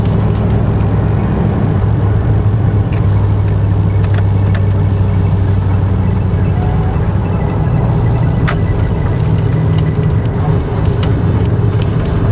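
Loud, continuous road roar and engine drone from inside a 2001 Dodge Ram 2500 pickup cruising on the freeway, with a low steady hum, occasional small rattles and clicks, and no voices.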